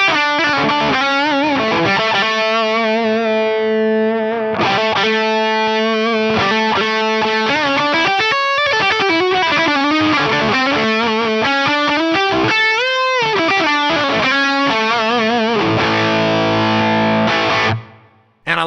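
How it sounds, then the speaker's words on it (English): An electric guitar plays through the fat distortion mode of a BOSS OD-200 pedal, giving loud, saturated, sustained chords and bends that ring continuously before cutting off abruptly at the end. "So that is the fat distortion."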